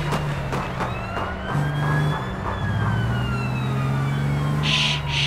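Police car sirens wailing continuously in the online game APB Reloaded, loud and close with sweeping rising and falling tones over a steady engine rumble.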